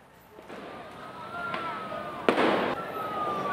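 Firecrackers go off in a street brawl between two groups of residents in a tunnel in Manggarai, Jakarta, with one sharp, loud bang over steady crowd noise and a dull rumble.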